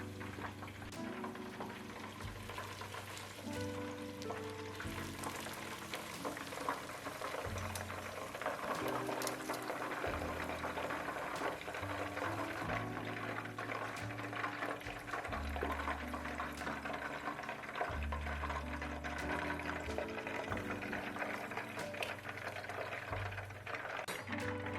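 A whole fish deep frying in oil in a stock pot gives a continuous crackling sizzle, bubbling steadily throughout, with low hums and thuds underneath and no voices.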